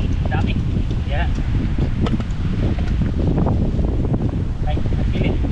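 Strong wind buffets an outdoor microphone in steady, loud rumbling gusts, with a voice talking intermittently through it.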